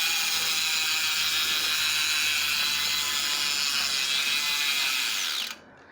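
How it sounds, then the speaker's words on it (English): A Giant Propel Advanced Pro 0 road bike's freehub ratchet buzzes in a fast, continuous clicking whir as the rear wheel spins freely, close and loud and alone, then cuts off abruptly at the end. "we always gotta start off with a free hub sound check"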